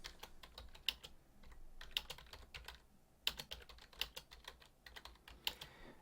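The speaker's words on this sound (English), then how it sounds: "you don't see anything in Design View while I'm typing there" Typing on a computer keyboard while entering text in a web editor's code view, a steady run of close, crisp key clicks with several louder strikes, no voices.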